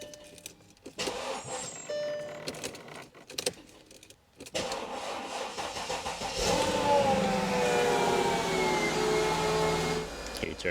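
A car with a 5-liter engine cranks and catches after a jangle of keys, then settles into a steady, moderately loud idle that carries to the end.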